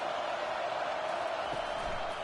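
A stadium crowd at a college football game roars in a continuous, dense wash of noise, filling the space evenly at a moderate level.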